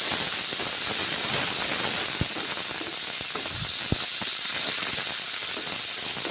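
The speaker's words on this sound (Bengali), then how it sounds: "বরবটিগুলো ছেড়ে দিলাম, ভেজে নিচ্ছি বরবটিগুলো" Yardlong beans sizzle in hot oil, a steady loud hiss of frying that fills the whole stretch with a few faint clicks and knocks underneath.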